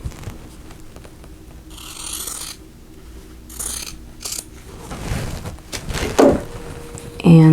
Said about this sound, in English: just trim this outer corner